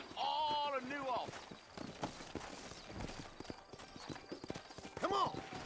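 Horses trot with clattering clip-clop hoofbeats on a road in a video game set in New Ulster, steady and close, with a horse whinnying near the start and again near the end.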